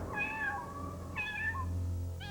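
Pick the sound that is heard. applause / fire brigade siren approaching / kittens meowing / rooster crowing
kittens meowing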